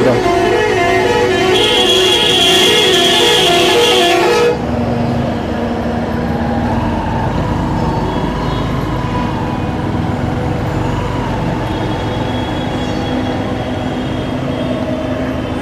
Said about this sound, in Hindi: और देखिए ट्रैफिक चल रहा है